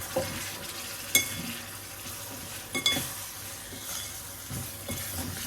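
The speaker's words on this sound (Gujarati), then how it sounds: "હવે એમાં એડ કરીશું આપણે, મેં એ મીડિયમ સાઇઝના 3 ટામેટાં લીધા હતા એ એડ કરીશું" Three medium tomatoes go into a pan of sautéed onions for dum aloo, sizzling softly while a spoon stirs and scrapes, with a few louder knocks against the pan.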